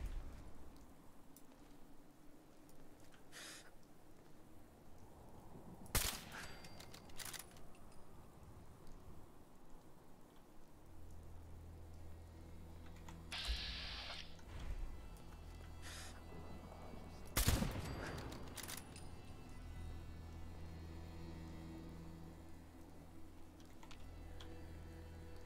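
An automated turret firing in the Fallout 4 video game: a few sharp, distinct gunshot bursts spread across a quiet stretch, set against low game ambience and a humming drone.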